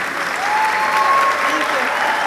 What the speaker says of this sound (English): Let's have a big round of applause for Mrs. Lee.